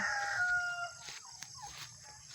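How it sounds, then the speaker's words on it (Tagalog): Turkeys calling with warbling, pitched cries and some clucking, close by against a steady outdoor background. "Ito naman ang mga pabo"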